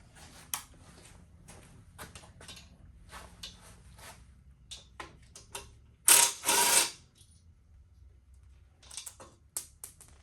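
Quarter-inch drive socket ratchet clicking in quick rapid bursts while working on a Honda CT70 with a Lifan 125 engine, with a couple of louder clattering knocks partway through.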